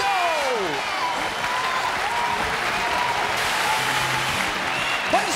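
A studio audience at a Taiwanese variety game show claps in steady, continuous applause, with faint voices and a few tonal sound effects rising above it.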